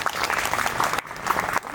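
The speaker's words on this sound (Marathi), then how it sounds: "या स्वागत गीतासाठी परत एकदा आपण टाळ्या वाजूया." An audience at a Dhammachakra Pravartan Day 2025 gathering breaks into a short, dense burst of applause after a welcome song, with many hands clapping close and loud.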